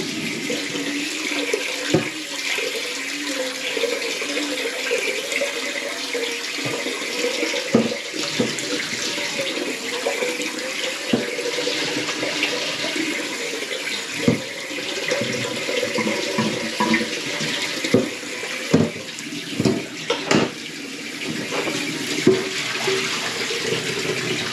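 Cold water running steadily from a tap into a sink, a continuous close hiss and splash lasting throughout, broken by occasional clunks and knocks.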